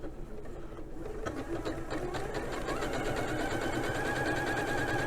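A Janome sewing machine fitted with a fringe foot stitches a zigzag seam, its motor starting up and settling into a steady, fast, close mechanical whir that runs continuously.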